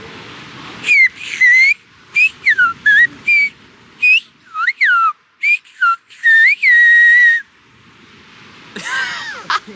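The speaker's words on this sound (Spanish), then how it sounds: "¿tú me puedes decir en silbo Gomero de Gref está aquí desnudo en la playa?" A person whistles a Silbo Gomero message outdoors on a beach, a loud run of sharp, bending whistles in quick bursts of varying pitch with short pauses, ending in a rougher trailing whistle.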